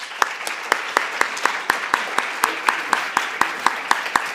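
A forum audience on climate and education claps to welcome a speaker to the stage, sharp clapping in a steady unison rhythm of about four beats per second over a bed of scattered applause, with no voice.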